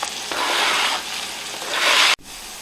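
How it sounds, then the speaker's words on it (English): Garlic and onions sizzle in melted butter in a pan for a keto chicken pot pie, a loud, close, steady frying hiss that swells, then cuts off sharply near the end. "I'm just going to slide in my garlic and onions here. We're going to sweat them"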